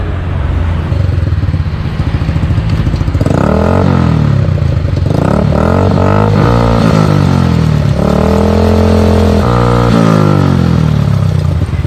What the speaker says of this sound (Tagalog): buksan mo yung makina, paandarin mo hanggang 4th gear